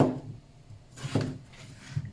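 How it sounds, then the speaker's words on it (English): A knife roughly dices vegetables into chunks on a wooden cutting board, giving a few soft, scattered knocks and scraping rubs, close and faint, with no talk. "I'm just going to roughly dice them into chunks"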